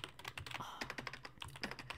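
Loud, fast typing on a computer keyboard right next to the microphone, a dense run of sharp clicking keystrokes over a low steady hum.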